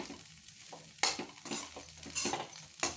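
Soybean filling roasts in a pan over a medium gas flame while a spatula stirs it, giving a few close scraping and clinking strokes over a soft, low sizzle.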